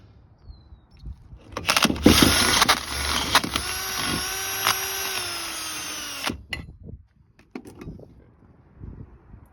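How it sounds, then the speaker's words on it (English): A power drill bores out old 5/8 wheel studs on a Dana 44 axle hub, a steady loud whine with harmonic squeal running about four seconds, bracketed by brief clicks and handling noise. "when I drill these out, I want these things to be as straight as I possibly can"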